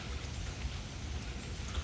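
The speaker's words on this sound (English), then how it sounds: "It's raining." Soft, steady rain makes a faint, continuous hiss with no voices.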